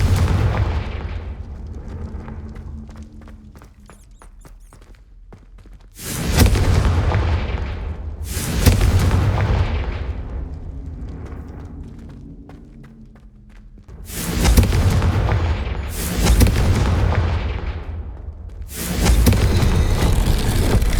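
Repeated heavy blasts from the Confringo fire spell in Hogwarts Legacy: loud booming explosions in bursts a few seconds apart, each decaying into rumbling reverberation, with a sustained low roar between them.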